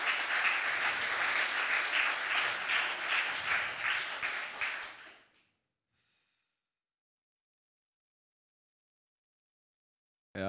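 Studio audience applause during a live German sports TV show, dense and loud for about five seconds, then cutting off abruptly into near silence.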